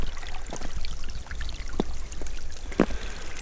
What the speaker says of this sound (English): This one looks like a real creek, kids. Look at that creek.